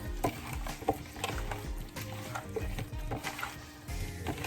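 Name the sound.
stirring oxtail stew ingredients in a pot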